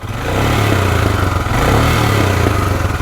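Royal Enfield Himalayan motorcycle fitted with a Devil aftermarket exhaust muffler, revving loudly and steadily close by with a deep throbbing exhaust note and slight rises in pitch, no voices.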